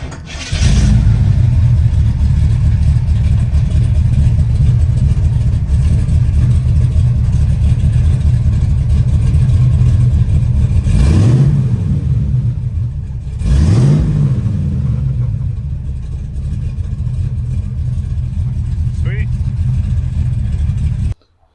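A 454 V8 in a Chevy Nova rumbles loud and steady at close range, with two sharp rev blips rising and falling midway before settling back to a rough idle that cuts off at the end.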